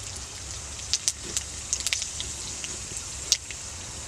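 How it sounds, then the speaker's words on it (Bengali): Dried red chilli, bay leaf, cinnamon, cloves and cumin seeds dropped into hot oil for a chicken curry crackle with a steady hiss and scattered sharp pops, close and fairly quiet. "তেলটা আমার গরম হয়ে গেছে এতে আমি শুকনো লঙ্কা তেজপাতা দারচিনি লবঙ্গ আর সাদা জিরা দিয়ে দিলাম"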